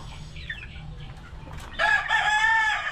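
Boston Roundhead gamefowl in a backyard flock, with a loud rooster crow ringing out over a low background of clucking and shuffling birds.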